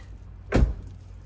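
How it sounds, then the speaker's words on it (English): A single solid thunk of a Ford F150 pickup truck door shutting, brief and fairly close, with a low idling hum underneath. "So close the door back."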